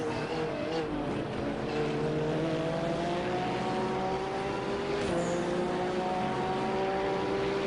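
Ford Mustang and Mach-E race cars in RaceRoom, giving a steady, loud engine drone of several cars close together, with layered pitches rising slowly and a brief shift midway, and no one talking.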